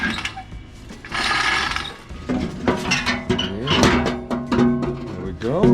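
Skid plate protector being removed from underneath a truck before an oil change, giving busy mechanical clanks, ratcheting and metallic rattles of tools and fasteners, close and fairly loud throughout.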